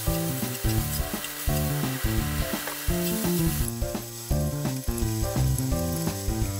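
Vegetables stir-fry in oil in an iron turk pan with a dense crackling sizzle, overlaid by steady tonal hum and repeated rhythmic pulses, close and loud throughout without any voices.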